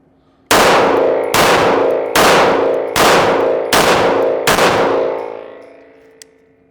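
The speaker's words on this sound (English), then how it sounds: "let's just put a mag through it and see how she does" Six loud gunshots from a MAC DS 9 Comp 9mm pistol, fired in steady succession about every 0.6 seconds, each crack ringing on and merging into a long echoing tail that fades after the last round.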